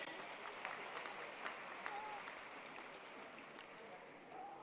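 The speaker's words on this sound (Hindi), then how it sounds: "जोरदार ताली बजाकर उनका स्वागत करें" Steady crowd clapping welcoming a central renewable energy minister at a solar park foundation-stone ceremony, a dense, even patter of many hands, fairly distant and soft, with faint voices in the background.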